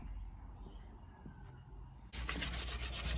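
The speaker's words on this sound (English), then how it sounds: "the filler dried, so we're just sanding it smooth now" Dried car body filler is sanded smooth by hand, starting with quiet faint rubbing before loud, rhythmic abrasive scraping strokes take over in quick succession close up.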